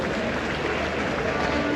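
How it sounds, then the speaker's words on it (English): A large crowd at a 2024 NPP political rally and manifesto launch in Takoradi, Ghana, applauds and cheers for a former president. The roar is loud, continuous and dense. "Let's give him a round of applause."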